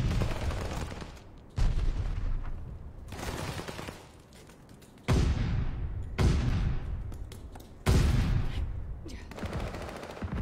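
Heavy gunfire in a ranked video game match while a hard point is under enemy attack: loud, dense volleys in several separate waves, each burst of sustained firing starting sharply and then trailing off.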